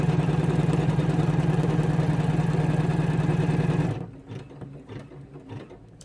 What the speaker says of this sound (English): our first colorway is to stitch out our stitching line, and by doing it in a wash away thread